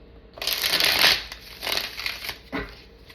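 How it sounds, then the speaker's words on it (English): A deck of cards is shuffled up close in three quick riffling bursts, each a crisp fluttering rattle separated by short pauses. "I'm still going to give it a couple of shuffles"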